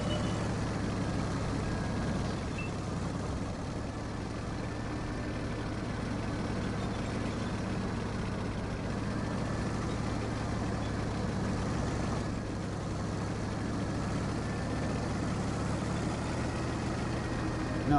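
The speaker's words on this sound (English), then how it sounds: "it's just this machine that's going on the friggin' ground as it goes along, bashing up all the concrete" Road construction machine bashing up concrete at night during paving work, a steady loud rumbling drone with constant vibration and engine hum, continuous and close throughout.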